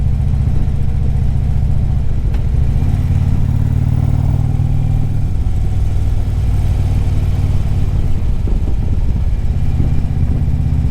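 Harley-Davidson Ultra Classic motorcycle underway near Granville, Ohio, a steady loud low engine rumble with throttle swells and road and wind roar throughout, no voices.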